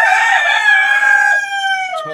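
A rooster crows loudly and close by in one long drawn-out call, with hens nearby in cages on a rooftop tiger chicken farm.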